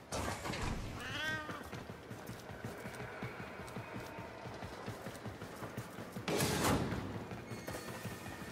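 A cat in the video game Warframe meows in a short wavering cry early on, heard over a dense rumbling game soundscape with a louder burst of noise later.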